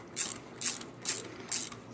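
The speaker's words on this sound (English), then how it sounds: "I keep getting this wrench on backwards though" A ratchet wrench clicking while re-rolling condenser tubes, four short bursts of ratcheting spaced evenly about half a second apart, close and fairly quiet.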